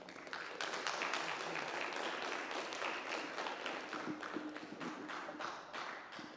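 An audience at a high school film festival screening applauds, a soft, dense, continuous wash of many hands clapping that holds steady throughout and stays faint, as if heard from a distance.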